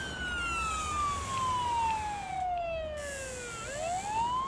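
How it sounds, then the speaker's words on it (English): An ambulance siren in the Ambulance Life video game wails continuously in long falling and rising sweeps, loud and close over a steady traffic rumble, with no talking. "Should we put the siren on?"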